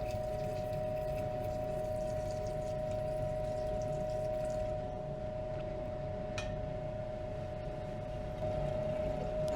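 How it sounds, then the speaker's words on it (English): Chemical rinse water from gold refining with oxalic acid poured off into a waste container, a steady rushing pour over a constant mechanical hum and tone, with a brief clink near the end. "pour these rinses off into this waste container"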